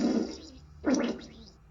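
Squelchy fart sound effect from a smart speaker: two wet, bubbly bursts, the first short and the second louder and more sputtering, close and clear with no talk.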